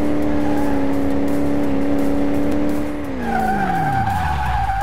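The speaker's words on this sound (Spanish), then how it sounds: "Buena ahí, madre mía, qué derrape" A car skids and drifts in Car Mechanic Simulator 2018, its loud tire squeal holding steady and then sliding downward in pitch as the engine note shifts, continuous and close with no talk over it.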